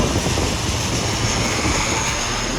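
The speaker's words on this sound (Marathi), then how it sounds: "बघा हा ATR आला आहे, इंडिगोचा आहे" An IndiGo ATR turboprop airliner passes close by near D. B. Patil International Airport beside a highway, a loud continuous engine roar and whine filling the scene without talk.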